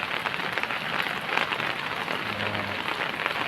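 Rain falls steadily at the start of the rainy season, a dense, even patter of drops on surfaces that continues without a break.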